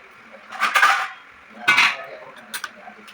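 Aluminium and steel cooking pots being handled in a home kitchen: a few sharp metallic clanks and scraping clatters in separate bursts, close and fairly loud, with quiet gaps between them.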